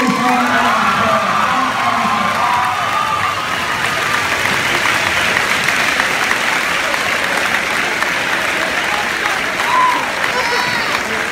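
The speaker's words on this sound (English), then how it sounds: "Please give him a nice round of applause." Crowd at a graduation gathering applauding and cheering for a soldier, loud sustained clapping mixed with whoops and shouts, including children's voices, throughout.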